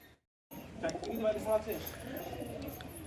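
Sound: pigeon cooing as it lands

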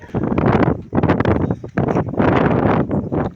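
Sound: strong wind during a storm

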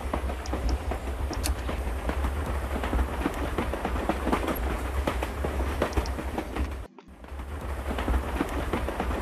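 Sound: train running in video game House of 1000 Doors

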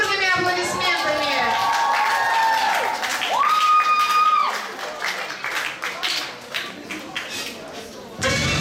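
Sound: audience applause

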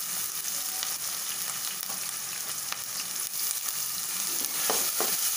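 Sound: green chili, onion and ginger-garlic paste frying in hot oil

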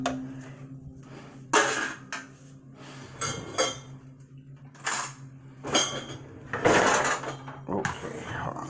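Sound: putting cooked turkey pasta into a bowl

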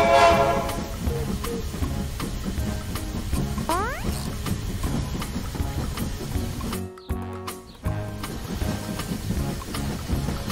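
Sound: cartoon train approaching in a kids' song

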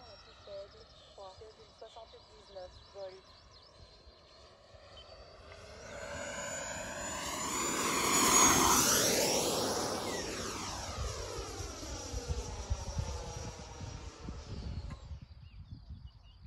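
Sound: Freewing Venom V2 90mm RC jet full-throttle pass

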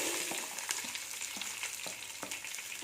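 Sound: sautéing shallots, green chilies and curry leaves in oil

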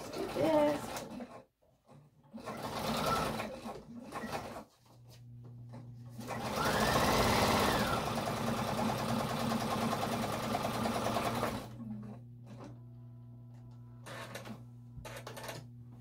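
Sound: sewing machine stitching a needle book greeting card

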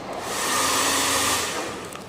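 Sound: hair dryer blowing hot air to heat boat surface

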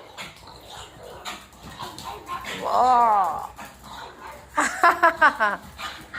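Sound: dog

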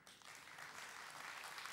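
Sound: applause for the first contestant

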